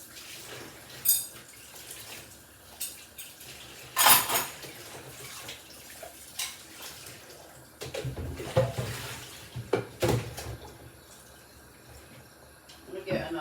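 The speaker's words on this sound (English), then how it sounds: "I'm just gonna wash my bowl, because this is the bowl I'm gonna have it in." A bowl is washed at a kitchen sink, with splashing water, clinks of dishware and scattered bumps at close range while a person talks intermittently over the washing.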